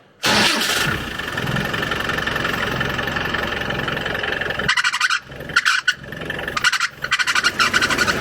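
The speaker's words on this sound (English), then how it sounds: "sort out the squeal that our power steering has on the Defender" A Land Rover Defender 110 engine cranks and starts, then idles roughly with a steady power steering pump squeal running over it. Toward the end the noise drops in and out in bursts.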